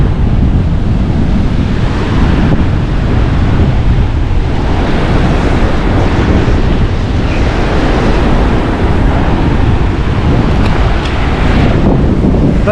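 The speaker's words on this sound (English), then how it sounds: "I just hope you guys can hear me because the wind is, it's very strong." Strong storm wind blasting across Laganas Beach with surf crashing, roaring steadily and loudly into the microphone as heavy buffeting noise throughout, with no voices.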